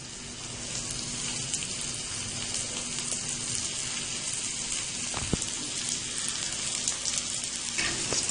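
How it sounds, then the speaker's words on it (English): Arvi and potato cutlets coated in semolina shallow-fry in oil, making a dense, even sizzle and crackle throughout, with one brief thud along the way. "Now I will deep fry this, shallow fry it."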